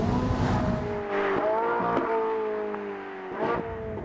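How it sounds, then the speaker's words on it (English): Ferrari 458 Italia V8 revving hard while driving, a loud rising and falling engine howl with sharp gear-change breaks and renewed climbs, close and dominant with no talk. "It's also tuned to produce a much sharper and better engine noise."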